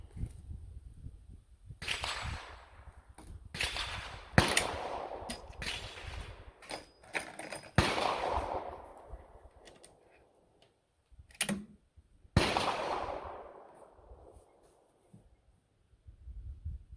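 .454 Casull revolver firing 300-grain cast .452 bullets outdoors, a series of sharp, loud single shots spaced a second or more apart, each with a long ringing echo trailing off, with quiet pauses between.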